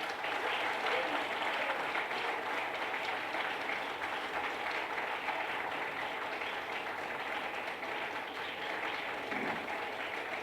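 Sustained audience applause for a visiting school debate team at an inter-school debate meet in Lucknow, dense steady clapping from a large crowd for about ten seconds without a break.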